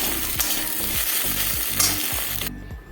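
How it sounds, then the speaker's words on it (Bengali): Chopped egg pieces fry in a pan with a continuous sizzle, while a spatula scrapes and stirs in regular strokes, close and with no voices, before the sound cuts off abruptly. "ডিমটা একদম কুচি কুচি করে ভাজতে হবে গোটা গোটা থাকলে হবে না"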